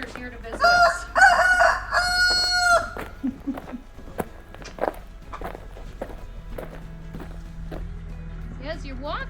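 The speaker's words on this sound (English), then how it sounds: "We even have some of our roosters here to visit us." A rooster crows loudly and close by at an apple orchard farm, with a few long harmonic calls early on, then footsteps and a person talking as the crowing fades.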